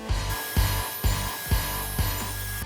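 A power saw cuts dados in wooden support pieces for a coffee table, a rhythmic series of about six close, loud pulses at half-second intervals over a constant motor whine.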